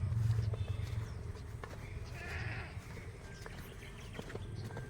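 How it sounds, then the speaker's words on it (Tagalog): Goats cry out on a muddy, rain-soaked farm, with a few scattered bleats rising over a low, rumbling background and some soft knocks and shuffling nearby. "Ay, nag-iiyakan natin mga kambing."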